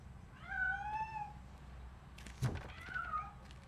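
A cat meows twice in RoboCop: Rogue City, a rising-falling cry early on and a shorter one near the end, with a single dull thunk between them, moderately close over a quiet background.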